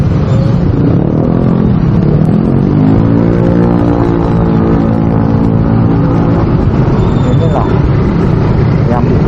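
Motorcycles and cars crawl through a traffic jam in Jakarta: a loud, constant close engine drone with one engine revving up and climbing in pitch midway, heavy rumbling noise throughout.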